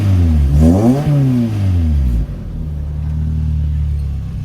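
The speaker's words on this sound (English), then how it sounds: "Sport exhaust." A 2005 Lotus Elise sport exhaust revs hard, climbing and dropping in pitch, then settles into a deep, throaty idle rumble close by.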